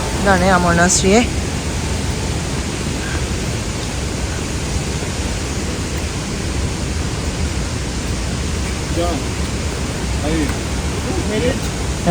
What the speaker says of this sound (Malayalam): വെള്ളച്ചാട്ടം കണ്ടോ